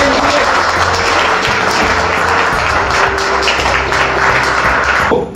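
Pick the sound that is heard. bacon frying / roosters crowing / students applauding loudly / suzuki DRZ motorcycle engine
students applauding loudly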